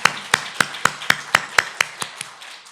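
A congregation at a Korean Sunday praise service claps in unison, about ten sharp, evenly spaced claps that slow and soften toward the end.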